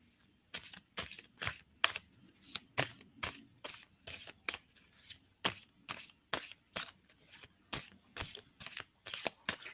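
Tarot cards are shuffled in a steady run of about twenty crisp riffling bursts, close and fairly quiet, with no talking.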